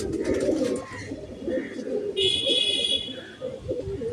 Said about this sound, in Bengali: সব পায়রা একদম ডাকাডাকি করছে, ফুল মস্তিতে আছে।